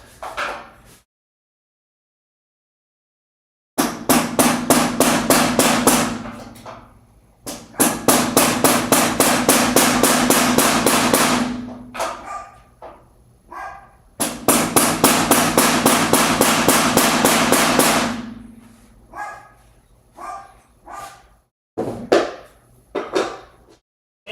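A mallet strikes a wooden dowel while a shelf is assembled, in two long bursts of rapid, loud, evenly spaced knocks, each lasting several seconds, with a few scattered single taps between them.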